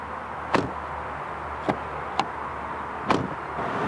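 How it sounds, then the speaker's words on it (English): Several sharp mechanical clicks and clunks of a 2018 Volkswagen Atlas door latch releasing and opening, spaced irregularly over a low steady hum. "Just listen to when we open the door."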